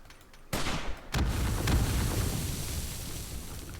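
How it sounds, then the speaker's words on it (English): In the video game 7 Days to Die, a sudden loud blast erupts, followed by a second burst and a long rumbling, crackling roar that slowly fades. "the explosions don't really update anymore"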